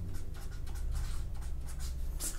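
Chalk or marker scratching steadily across a board during a geometry lesson, a continuous close scraping with short stroke bursts and a faint squeak near the end.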